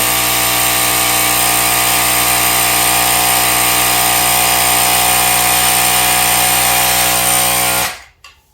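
A loud, steady motorized whir from a portable Anti Gravity Micro-Start tire inflator pumping a motorcycle tire toward 70 psi, droning continuously, then cutting off abruptly at the end.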